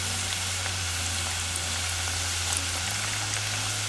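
Churro tots for a Disney Parks-style dessert frying in hot oil, giving a steady, even sizzle with a constant bubbling hiss and a low hum underneath.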